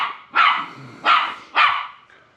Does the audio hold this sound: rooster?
no